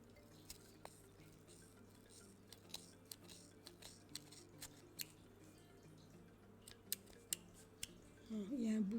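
Scissors snip knitted yarn while a hat is made, giving faint, crisp cuts spaced irregularly over quiet room noise, with a voice rising briefly at the end.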